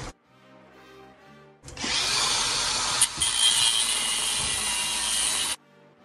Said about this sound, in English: just pass the grinder down here, would ya?